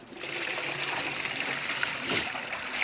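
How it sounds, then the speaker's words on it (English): Water poured steadily from a Frigidaire 50-pint dehumidifier's plastic bucket, a continuous close trickling stream with light splashing that runs unbroken for about three seconds. "But just to dump the water out,"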